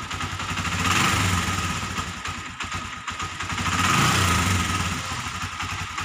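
A Honda TMX motorcycle with a burnt stator and a battery-operated CDI starts and runs, its engine idling steadily close by with rhythmic swells in loudness over about six seconds.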